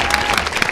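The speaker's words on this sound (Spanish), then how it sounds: "a ver el aplauso" Studio audience applauding at a local TV production in Aguascalientes, a dense, steady wash of clapping close up and filling the whole short moment.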